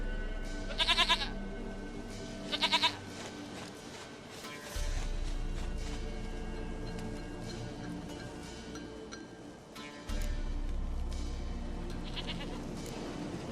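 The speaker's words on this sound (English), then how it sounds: "Goat of mine! Dearest, sweetest goat!" A goat in The Witcher 3 gives two short, quavering bleats near the start, clear and close, followed by low ambient rumble and game background noise with no further calls.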